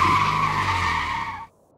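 Car tires squeal in a loud, sustained skid as a car speeds away, the screech holding steady before cutting off abruptly into silence.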